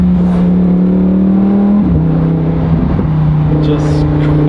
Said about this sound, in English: it has an akrapovic fully titanium exhaust, so it sounds unbelievable